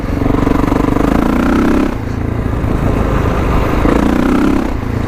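Kawasaki KLX351 dual-sport motorcycle engine revving up through a couple of gears, close and loud, with a steady droning tone that dips briefly between shifts before climbing again.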